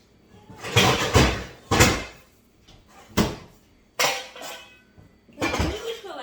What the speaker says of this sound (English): We're gonna get out our pans.